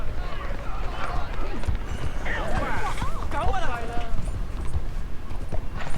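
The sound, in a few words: horse hooves clip-clopping in a video game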